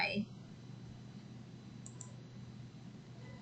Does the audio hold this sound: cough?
no